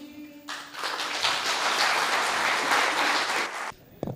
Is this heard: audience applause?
yes